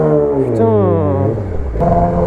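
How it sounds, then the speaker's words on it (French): A quad bike lane-splitting through traffic revs loud and close, its engine pitch rising and falling over a steady vehicle rumble. "il fait de l'interfile avec un quad, c'est un crack"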